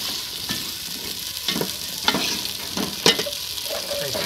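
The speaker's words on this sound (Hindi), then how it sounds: "आलू डाले जा रहे हैं, ये भी डाल दिए। अब इसको अच्छी तरह से मिक्स करेंगे।" Potatoes tossed and stirred in a hot frying pan, with a steady close sizzle broken by repeated scraping stirs about once a second, no voices.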